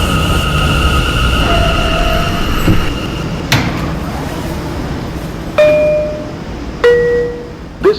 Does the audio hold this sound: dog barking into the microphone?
no